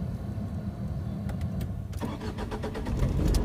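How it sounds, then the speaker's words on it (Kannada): A car engine cranking and catching near the end, starting up close and moderately loud after a few clicks and a brief whir, with the idle settling in under steady cabin background noise. "ಈಗ ಗಾಡಿನ ಸ್ಟಾರ್ಟ್ ಮಾಡ್ತೀನಿ"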